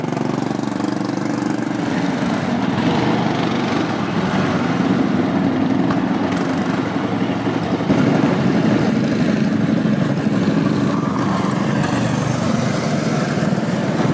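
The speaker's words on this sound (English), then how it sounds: "we're driving cycle carts." Small cycle cart engines drone continuously on an outdoor track, a steady buzzing, slightly rough motor sound that swells a little as the carts pass nearby.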